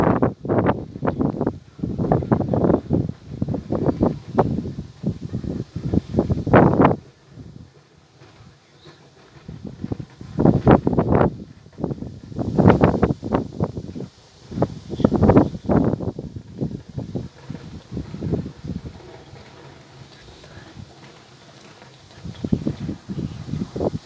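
Strong storm gusts of about 75 to 100 km/h near Grenoble in the Alps tear through trees and blow leaves, heavy buffeting roars rising and falling in waves across the mic with brief lulls between.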